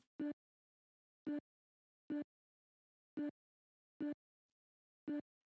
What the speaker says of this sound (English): And then the next piece I have is 2 vocal chops